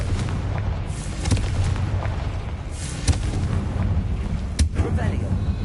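Fire-spell blast in the PS5 game Hogwarts Legacy: a dense, booming rumble with several sharp bursts, notably near 1.3, 3.1 and 4.6 seconds, over continuous low-end roar.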